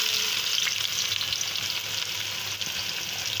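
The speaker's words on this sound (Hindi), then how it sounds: "अब इसमें हम प्याज डालते हैं।" Onions sizzling and frying in very hot mustard oil in a pan for a chicken sukka dish, a steady, close, dense crackle with no talk.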